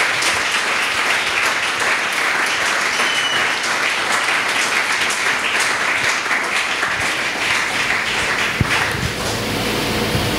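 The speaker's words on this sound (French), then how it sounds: "Est-ce qu'on peut acclamer pour la parole?" A church congregation applauds steadily and loudly, a dense, even wash of many hands clapping that holds for the full length without a break.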